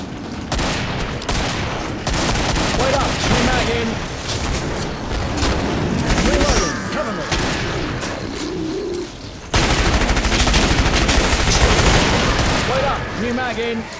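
Rapid, loud gunfire from the video game Killing Floor, dense bursts of shots and booms running almost continuously with a brief dip near the middle before resuming, with players talking over the action.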